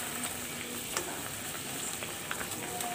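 Small pre-fried fish are added to a pan of spiced mixture being cooked down with water, giving a steady close sizzle and crackle with scattered sharp pops and no talking.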